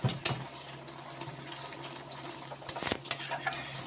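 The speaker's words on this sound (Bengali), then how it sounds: "কড়াইটাকে সমানে নেড়ে যাচ্ছি নেড়ে নেড়ে একদম একটু শুকনো শুকনো করে নেব" Ripe jamun mixture is stirred in a wok, with scraping strokes and soft bubbling, plus a few sharper clatters near the start and end, no voices.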